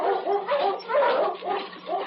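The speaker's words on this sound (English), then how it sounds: "barked furiously" A black husky barks furiously in the snowy Yukon, five or so loud, close yelping barks in a quick, uneven rhythm over a couple of seconds.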